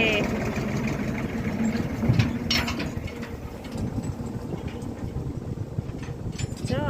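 A tractor engine idles and chugs steadily throughout on a farm, with a voice talking over the continuous mechanical drone.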